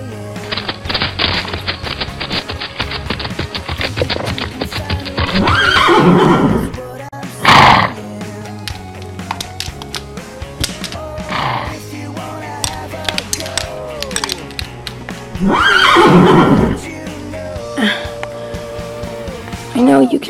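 Toy horse movie soundtrack with several loud, drawn-out horse neighs rising over steady background music, the whinnies recurring at intervals across the scene.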